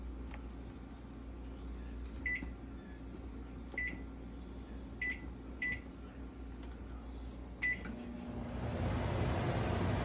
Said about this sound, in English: we're gonna do it in the microwave